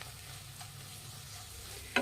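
Egg puff stuffing with egg being stirred and fried in a pan, a short stretch of steady sizzle under light scraping, ending in a sharp clack of the spatula.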